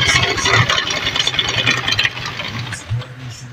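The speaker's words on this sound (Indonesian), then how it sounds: "Coba saya nyalakan motor. Oh, ini motor mesinnya juga kasar sekali nih ya." A Honda Vario 110 carburettor scooter running cold with a rough engine, producing a steady, loud, rattling idle close by that continues throughout.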